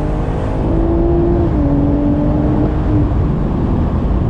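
A 2020 BMW Z4 M40i under acceleration, its engine making a loud, steady roar with a tone that climbs and shifts as it pulls, close to the microphone and alone with no talking.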